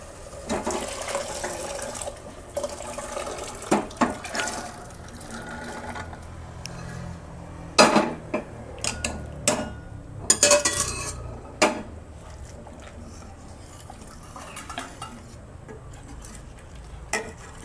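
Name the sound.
adding rajma kidney beans into a cooking pot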